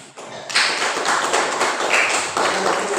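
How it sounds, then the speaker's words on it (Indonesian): A classroom group applauds, with many hands clapping together in a dense, steady patter that starts abruptly and carries on close and fairly loud. "Ya, tepuk tangan"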